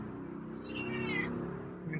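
A feral cat gives one short, faint meow over a low, steady background hum.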